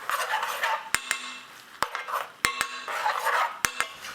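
A spoon stirs veg dhansak in a metal pan, making soft scraping swirls broken by several sharp clinks of the spoon hitting the pan's rim, close and fairly quiet with no talking.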